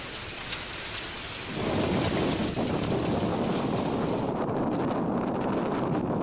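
Heavy rain pours down over Hyderabad streets, swelling suddenly into a dense, loud roar of downpour with thunder and wind buffeting, and no voices.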